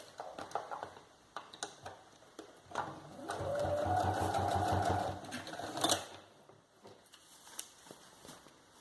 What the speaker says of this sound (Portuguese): Vou passar uma costura prendendo aqui, uma costurinha de segurança